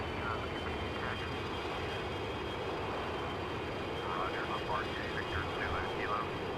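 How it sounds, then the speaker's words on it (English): Airplane engines in Microsoft Flight Simulator X on a flight from Port Moresby to Brisbane, a steady broadband roar that holds at constant loudness throughout, with faint voices talking underneath. "I can hear the airplane"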